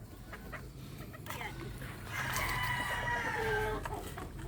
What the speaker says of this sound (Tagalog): Pakainin na natin itong ating mga sisiw.